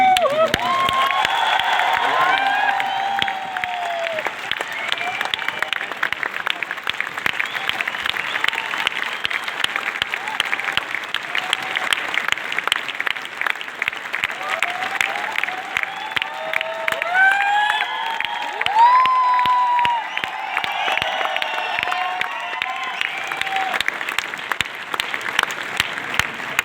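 A large audience at a motivational seminar breaks into loud, sustained applause with cheering and whoops, steady and dense for nearly half a minute, with scattered voices rising above the clapping.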